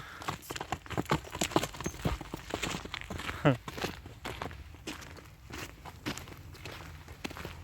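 Hooves clop steadily on hard ground as Percheron horses walk past, an irregular run of close, crisp footfalls, with a brief voice in the background.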